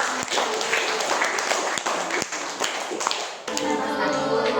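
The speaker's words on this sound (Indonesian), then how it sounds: "beri tepuk tangan untuk" Loud, dense clapping from a crowd, steady throughout, with a few sharper individual claps standing out near the start.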